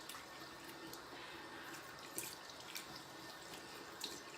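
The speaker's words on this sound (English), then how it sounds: "I'm just gonna rinse, splash some water on my face." Water splashing onto a face at a bathroom sink, with steady running tap water and a few brief, irregular splashes over the flow; fairly quiet and close, no voices.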